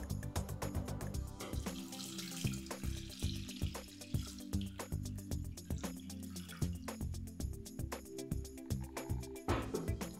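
Water being poured into a pot of halved plums and raisins for a homemade cough remedy, a steady splashing and trickling with clattering kitchen noise, fairly close and without speech.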